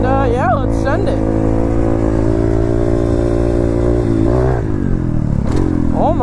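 A dirt bike engine out on trails drones loudly and steadily up close, with brief revs and pitch swings; a voice speaks over the engine noise.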